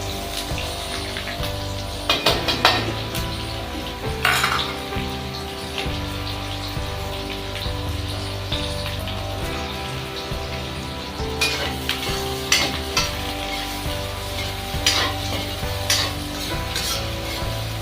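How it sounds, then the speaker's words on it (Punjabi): Onions and cumin seeds fry in hot oil in a pan, giving a steady, close sizzle with occasional louder crackling bursts and light stirring clatter throughout. "ਜਦ ਤੱਕ ਆਪਣੇ ਪਿਆਜ਼ ਭੁੰਨਦੇ ਆ"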